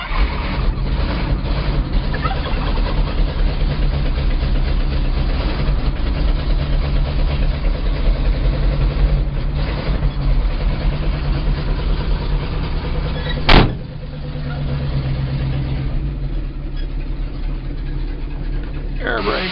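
A grain truck engine runs at a steady, low idle close by, a constant heavy rumble filling the clip, broken by one sharp click or clunk near the end before the rumble settles slightly lower.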